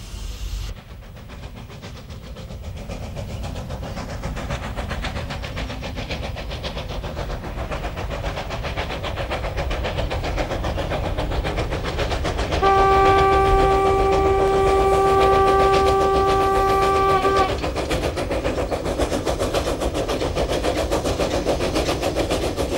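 Steam locomotive number 1920 working a mixed train in Poland: a steady chuffing, rumbling run with hiss, and a loud whistle sounding for several seconds partway through.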